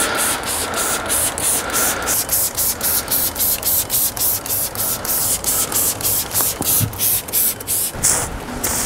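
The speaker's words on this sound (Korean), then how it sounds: "분사가 아주 고르고 미세하게 분사가 잘 돼서 고급스러운 면이 있지만" A handheld pump spray bottle for car care sprays a fine, even mist of cleaning or waxing product, giving a steady run of quick hissing spurts that repeat about every half second, close and loud.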